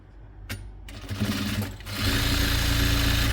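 Sewing machine stitching an old towel: a couple of sharp clicks, then a steady close motor whir that grows louder and runs continuously at the end.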